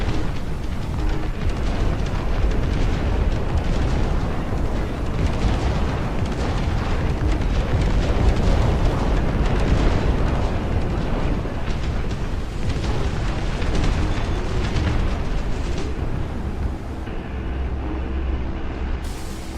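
Howitzer artillery in the strategy game Dust Front, a continuous heavy rumble of booming blasts and reverberation that stays loud throughout and thins out near the end.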